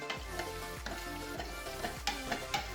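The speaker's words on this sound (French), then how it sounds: "on va touiller" A spoon stirs broth with a softened, dissolved stock cube for Japanese curry, making a steady run of soft scraping swirls that repeat about every half second, close by.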